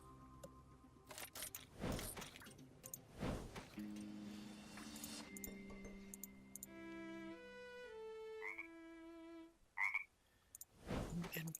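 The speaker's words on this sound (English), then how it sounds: "Why does the violin music scare the frog away?" Frog croaking in the video game Modern Tales: Age of Invention, several loud croaks scattered through quiet game ambience, with tonal notes and soft clicks between them.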